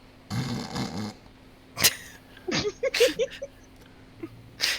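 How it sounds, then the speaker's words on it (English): Several short snorting snores and wheezy breaths come in an uneven rhythm, nearby and moderately loud, with a couple of sharp clicks between them. "they have like a snore recording"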